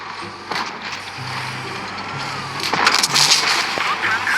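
Tank cannon fire in the mobile game World of Tanks Blitz, from the Smasher special tank, heard as a few sharp shots at intervals over a steady engine and battle rumble.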